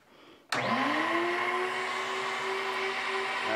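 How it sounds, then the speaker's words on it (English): A large vacuum machine driven by twelve vacuum cleaner motors starts abruptly after a brief quiet, then holds a loud, steady whining roar with a rising tonal hum, running alone. "all this thing is, it's a big vacuum cleaner. It's got like 12 vacuum cleaner engines or motors inside of it"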